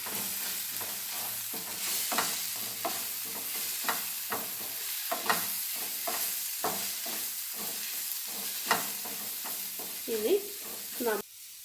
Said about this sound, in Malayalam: സ്വല്പം മഞ്ഞൾപ്പൊടി, ഇതെല്ലാം കൂടിയിട്ട് നന്നായി ഇളക്കും